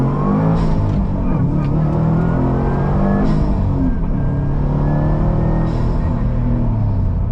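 2018 Subaru WRX STI launches hard, its engine surging loudly with climbing revs, a brief dip at a gear change, then pulling up again in a continuous close-up roar inside the cabin.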